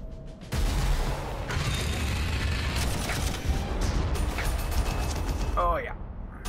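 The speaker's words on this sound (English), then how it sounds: "Got artillery." Artillery fire in the Warhammer 40,000: Armageddon strategy game, a dense continuous rumble of booms and mechanical clatter with a few sharp bursts, loud throughout and fading near the end.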